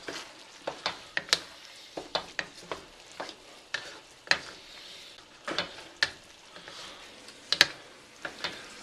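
Sauce thickened with cornstarch bubbling back up to a boil, with a run of irregular crisp pops and spatters, some sharp and close, over a quiet simmering background.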